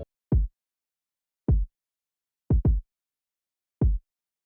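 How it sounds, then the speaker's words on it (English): A simple kick drum pattern programmed in Ableton for a beat, playing alone: five deep, punchy thumps in a sparse, uneven rhythm, two of them close together, each loud and short with nothing else playing. "Next we have the kick. The kick is really simple as well."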